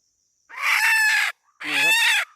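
A young junglefowl hen gives two loud, close squawking calls in quick succession, each harsh and drawn out, with silence around them.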